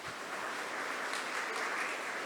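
Audience applause for faculty at a community college graduation ceremony, a brief, even wash of many hands clapping at moderate distance, fairly quiet and steady.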